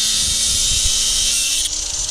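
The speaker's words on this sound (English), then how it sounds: "Cut the bolt off the end." A power tool cutting a bolt off a Falcon Barra turbo setup gives a loud, sustained high whine that dips briefly near the end, with some low thumping underneath.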